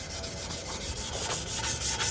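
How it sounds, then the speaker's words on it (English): Motorcycle parts are sanded by hand before primer. A close, steady rubbing rasp repeats in even back-and-forth strokes with no talk. "let's get to sanding and then primer"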